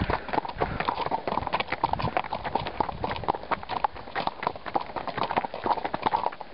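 Hooves of a walking horse clip-clop in a steady, dense rhythm outdoors, close and fairly loud, with a muffled, band-limited quality and faint background noise.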